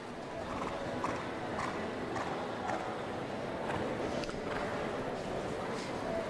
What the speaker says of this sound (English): Well, Donatello, this is an 8-year-old gelding, young horse here.